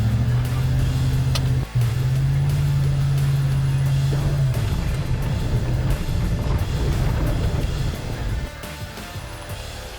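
A truck fitted with test tires drives under steady throttle, giving a loud, continuous engine drone with a steady low hum that breaks once briefly and then fades into rumbling road and tire noise.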